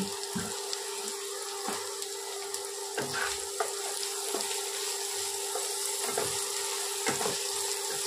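Onions frying with salt in a pan for a mushroom curry, a close, continuous sizzle and crackle broken by repeated scraping stirs, with a faint steady hum underneath.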